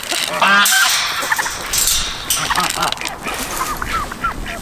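Geese honk repeatedly in a noisy outdoor scene, their calls overlapping with background chatter and movement close by.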